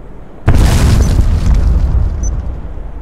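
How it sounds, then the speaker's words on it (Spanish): A grenade detonates in the video game Black Squad during a one-on-one match: one sudden loud close boom that rolls into a long rumbling decay. "Tiró la granada."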